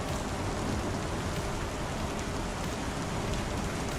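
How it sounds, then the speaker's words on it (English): Rain drums steadily on a roof in the Star Citizen game world, a dense even hiss with no pauses, moderately loud and alone. "You can actually hear the rain hitting the top of the roof."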